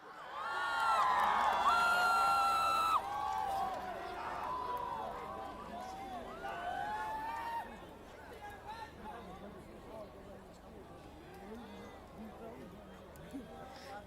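A festival crowd at the Orange Festival in Tamenglong welcomes a singer with loud whoops and cheering shouts that come in bursts at first, then settle into a fainter murmur of chatter and crowd noise.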